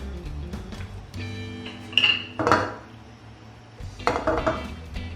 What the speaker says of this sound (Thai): ติดเตาครับ ใส่น้ำมันพืชครับผม